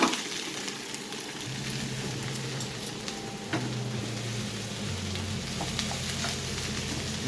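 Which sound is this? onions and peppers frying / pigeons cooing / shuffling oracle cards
onions and peppers frying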